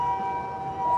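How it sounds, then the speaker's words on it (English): A loud ambulance siren wails on a street in Osaka's Minami district near Namba, a steady, sustained tone filling the whole second with no talk over it. "Wow, that's a really loud siren. Ambulance, unfortunately."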